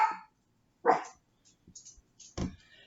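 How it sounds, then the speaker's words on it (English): A dog barks indoors in a few sharp, separate yaps with quiet gaps between them. "And I apologize, my dog is barking."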